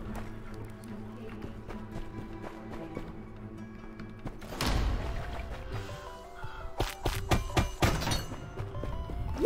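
Fire bombs thrown in the dungeon game Undermine: quiet tapping and soft game noises first, then a sudden crash followed by several sharp shattering and thudding impacts in quick succession, fairly loud against a faint background.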